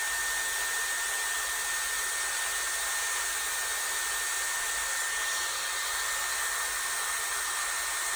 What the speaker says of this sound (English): So I'm gonna give it a cool shot for about 10 seconds or so.